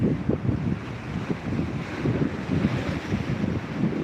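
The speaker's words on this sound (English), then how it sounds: "So a few little waves coming through." Rough sea with waves rolling through and steady wind buffeting the microphone, a continuous low roar with gentle surges, heard from on or near the water.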